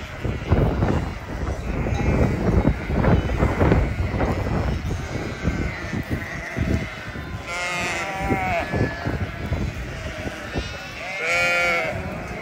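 Sheep bleating in a barn, several loud calls standing out over shuffling and livestock movement nearby, with a few overlapping bleats toward the end.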